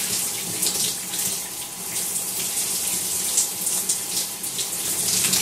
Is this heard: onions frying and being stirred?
no